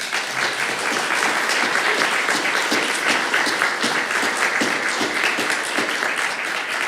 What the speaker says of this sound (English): just offer a great applause to all of them for that great work